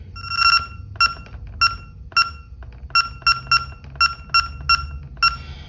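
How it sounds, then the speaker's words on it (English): A series of short, bright electronic beeps from a tablet, about a dozen, spaced irregularly, clear and close over a low background hum. "That is a basic beep sound."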